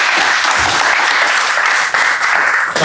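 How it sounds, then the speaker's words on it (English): Audience at a real estate debate panel applauds the panelists with steady, dense clapping that fills the room throughout, dipping slightly near the end. "please give them applause"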